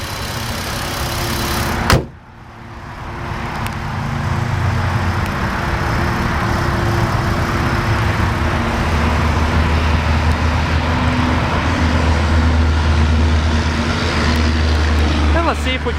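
A 2008 Audi TT 3.2 Quattro with a 3.2-liter V6 and six-speed manual starts with a sharp crank and catch, then settles into a loud, close, steady idle rumble.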